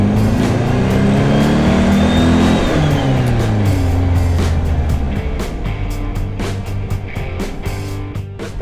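A 1965 VW Beetle driving and accelerating: the loud, close air-cooled engine drone rises in pitch as it revs up, then settles into a steady hum as the car cruises on.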